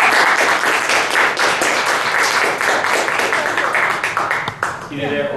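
A lecture audience breaks into sustained, dense applause to welcome a speaker, loud and close, fading near the end as a voice starts talking.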